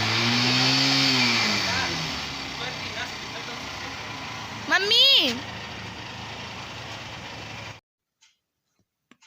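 Motorbike engine running while riding on the road in Kashi, a steady mid-pitched hum with a brief revving swell near the middle, wind noise over it, a short spoken word, then the sound cuts to silence.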